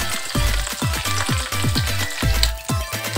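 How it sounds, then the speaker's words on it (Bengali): Chopped onion and green chillies hit hot frying oil left from frying eggs, giving a loud, close crackling sizzle with bursts of popping and stirring, no talk. "এই তেলেই আমি একটা বড় সাইজের পেঁয়াজ কুচি করে নিয়েছি, আর 5-6টা মতো কাঁচামরিচ খালি করে নিয়েছি, সেগুলো দিয়ে দিলাম"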